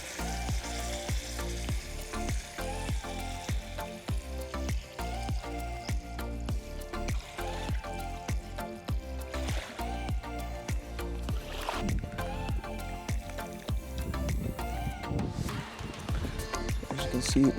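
Water is poured into a sizzling pot of meat for a one-pot rice meal cooked outdoors, giving loud, bubbling hisses broken by repeated scraping strokes against the pot, up close and continuous.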